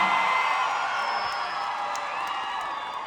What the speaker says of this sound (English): you all started cheering